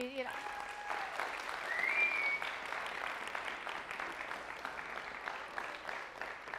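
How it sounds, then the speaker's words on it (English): A room of high school juniors gives their class advisor a round of applause at a class meeting, moderate steady clapping with a brief whistle early on, continuing evenly throughout. "give Ms. Endich a round of applause"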